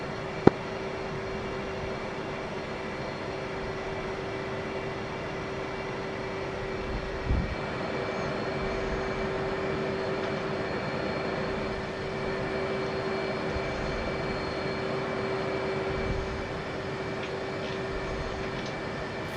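An F-18 jet's engine roars steadily as it rolls for takeoff from a runway in a flight simulator game, a continuous, even drone with one sharp click early on and no speech.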